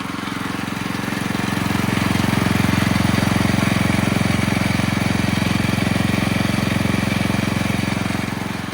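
Engine running a vintage custom gold trommel wash plant, belt-driven through a small pulley, giving a loud, steady, rapidly pulsing mechanical drone close by that swells in and holds without pause.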